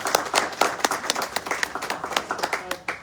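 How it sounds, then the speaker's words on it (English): Applause at a community meeting on sewage backups, a modest crowd clapping with distinct individual hand claps audible, steady and fairly close for a few seconds. "And give them a round of applause, please."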